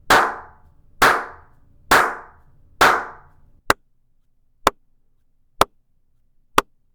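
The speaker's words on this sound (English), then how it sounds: "I'm gonna go ahead and do my clap test to show you the difference between an untreated space and a treated" Single hand claps in a room, eight evenly spaced: the first four ring out with a reverberant tail, the last four are dry, short sharp snaps as in an acoustically treated space, loud and close with no talking.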